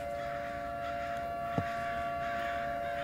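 A siren in the horror video game Summer of '58 sounds as a long, sustained, steady wail at moderate level, alone with no talk, a brief click partway through.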